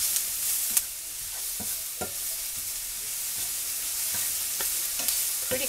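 Onion and mushroom soften in a pan, a steady soft sizzle with occasional clicks of a utensil stirring, close but fairly quiet, and no talking.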